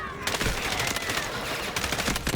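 Rapid automatic gunfire from an expensive weapon skin in the shooter game Delta Force, a dense, loud stream of shots with brief gaps, close and continuous throughout.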